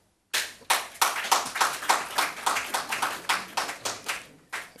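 Applause from an audience at a government swearing-in ceremony, starting abruptly and continuing as steady, fairly close rhythmic clapping throughout, with no talk over it.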